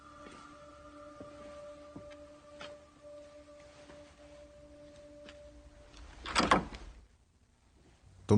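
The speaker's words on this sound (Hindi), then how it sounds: "तुम दरवाजा खोल रहे थे क्या?" Door being opened in a Chinese action film dubbed in Hindi, a faint quiet room with low tones giving way to a short loud scraping burst near the end, then near silence.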